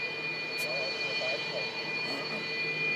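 Military jet engines at a Russian air base with Su-27, MiG-29 and Su-25 aircraft, a steady distant roar of thrust with a whine on top, a fairly even wash of noise with faint voices in the background.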